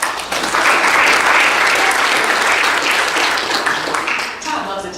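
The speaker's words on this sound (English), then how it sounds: "A round of applause." Audience applause at a Cedar Rapids community forum on school closings and consolidations, a full, steady round of clapping from a crowded room that holds for several seconds before tapering off.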